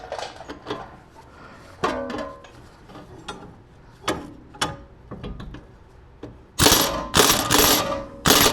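Ratchet wrench with a socket tightening a bolt during a CV half shaft replacement on a 2016 Grand Cherokee, giving several short scattered bursts of clicking, then a loud rapid run of ratcheting near the end.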